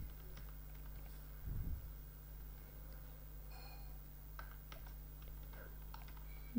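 Soft, quiet computer keyboard typing with a few scattered key clicks spread over several seconds while a Kotlin class name is entered.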